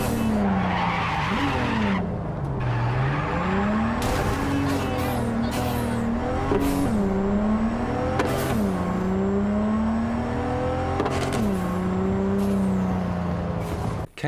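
A car in the video game Cyberpunk 2077 on PlayStation 5 is thrown around with handbrake turns, its engine revving up and down continuously while tires squeal and skid in repeated bursts over fourteen seconds.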